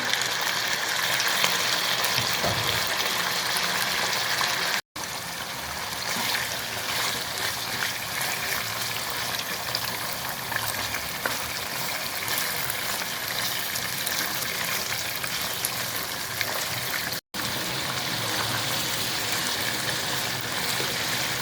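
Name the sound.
chicken frying in pan with garam masala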